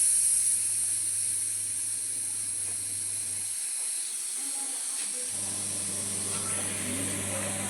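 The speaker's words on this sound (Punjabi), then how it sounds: "ਮੈਂ ਇਹਦੀ ਹਵਾ ਕੱਢ ਦਿੰਦੇ ਆਪਾਂ ਭਾਪ ਕਰ ਦਿੰਨੇ ਆ" A kitchen pressure cooker holding a potato and carrot vegetable curry vents steam in a continuous, close hiss over a low background hum.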